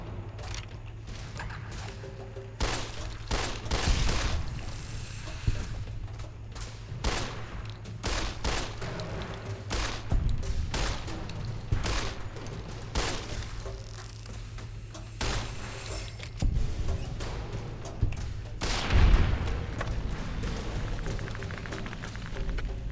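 Rapid gunfire bursts and scattered single shots from Fallout New Vegas gameplay, with clicks and metallic clatter between volleys over a steady low background hum, fairly quiet throughout.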